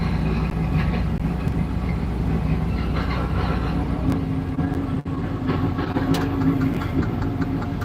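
Engine and drivetrain noise from a car being driven, a steady low rumble with rattly mechanical undertones and a short dip midway, no talk over it.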